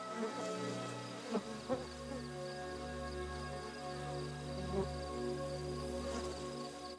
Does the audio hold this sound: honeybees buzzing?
yes